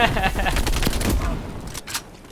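Rapid fire from a Street Sweeper shotgun in Call of Duty Black Ops Cold War, a quick run of loud, close blasts in fast rhythm that trails off into a couple of final shots.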